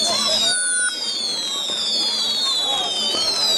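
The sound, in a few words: fireworks at a carnival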